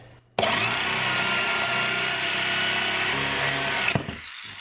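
A drill bit bores a clean, smooth hole through wood with no tear-out: a sudden start, then a steady, loud high-pitched whine for about three and a half seconds before it cuts off abruptly.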